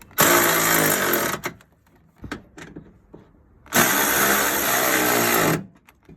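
A power tool with a socket tightens the top brackets of a Piranha dual battery tray on a Toyota 70 Series 4x4. Two loud, close, whirring bursts run about one to two seconds each, with a quiet pause and faint clinks between them.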